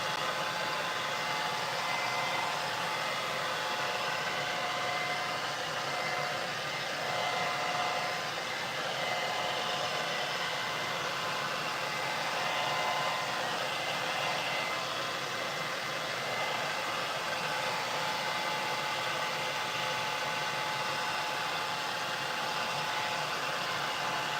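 A hair dryer drying paint blows continuously with a steady, even whooshing roar that never pauses.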